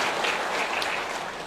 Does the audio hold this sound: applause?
yes